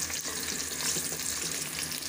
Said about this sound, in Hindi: प्याज ब्राउन होने लगी है हमारी।